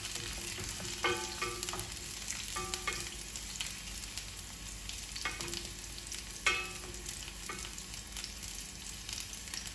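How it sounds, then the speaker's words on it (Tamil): Garlic sautéing in a pan for pizza sauce, a steady close sizzle with occasional scraping stirs and light clinks of the utensil against the pan, and no talking. "சோஸுக்கு இதில் வந்து உள்ளியே இதில் போட்டு கொஞ்சம் வதக்கவும்."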